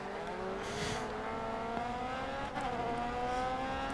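Race car engines in the Grid Autosport video game drone steadily and loudly throughout, with rising and falling pitch as cars rev and shift, a brief burst of noise near the start and another shift around the middle.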